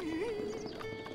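Horse at a stable in a Zelda video game, a short neigh with faint hoof clip-clop, quiet and alone.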